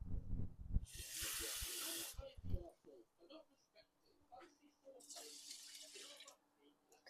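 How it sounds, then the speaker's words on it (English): Water poured from a cup onto washed rice comes in two hissing splashes about a second long each, with talking between them. "we are gonna grab the cup again and put some water in"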